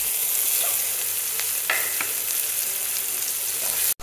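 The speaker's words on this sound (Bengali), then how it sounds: "আর এখন আমি দিয়ে দিলাম 4-5টা কাঁচামরিচ আর 2টো পেঁয়াজ কুচি। এটা আমি ভালো করে ভেজে নেব।" Four or five green chilies and two chopped onions frying in hot oil in a pan, a dense close sizzle that holds steady throughout, with a few soft stirring scrapes and no voices.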